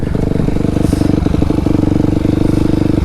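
A dirt bike engine in a backyard throbs loud and close with rapid, steady firing pulses, holding a rough, rattly idle-to-rev drone for the whole moment.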